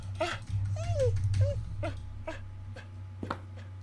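A dog whimpers in the horror game Never Apart, a few short, high, wavering whines over a steady low hum, fairly faint.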